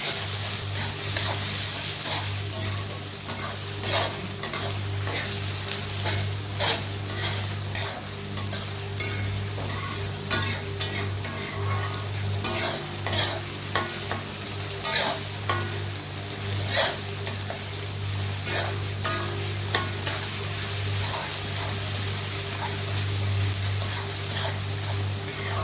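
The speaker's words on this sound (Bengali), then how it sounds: "পেঁয়াজগুলো ভালো করে ভাজতে হবে যতক্ষণ পর্যন্ত ব্রাউন না হয়ে যায়।" Onions fry in hot oil while being stirred, with a dense, continuous sizzle broken by frequent spatula scrapes and taps against the pan, close and steady with no talk.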